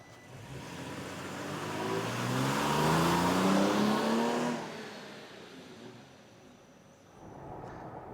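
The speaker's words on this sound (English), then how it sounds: "Well, John, the sprint booster has made this truck a lot more fun to drive" A truck fitted with a sprint booster on a test drive, its engine note rising as it accelerates, heard from inside the cab, then easing off and building again toward the end, with no talking.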